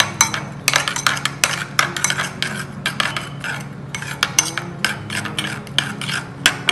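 Homemade burger patty mixture with chopped onions being mixed in a bowl, making close, irregular scraping and clinking sounds of a utensil, repeated in uneven bursts without any talking.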